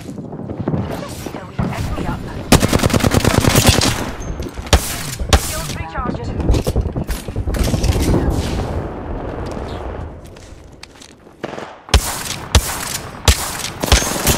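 Loud, dense gunfire from the Apex Legends battle royale game, with rapid automatic bursts and heavy booming shots that pile up in long volleys, broken by short pauses and a few lone blasts near the end.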